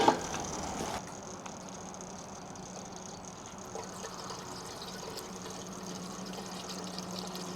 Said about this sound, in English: Throw a little drop of gas in here.